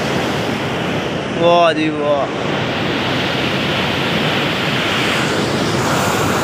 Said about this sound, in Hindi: ये गेट है अभी कहते हैं बिल्कुल थोड़ा सा खुला हुआ है, और पानी की स्पीड चेक करें जरा